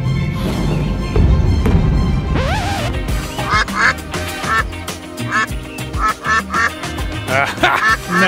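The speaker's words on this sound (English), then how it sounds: "That's the duck." A duck quacks again and again in a quick, uneven series, loud and close over a dense, busy layer of background sound.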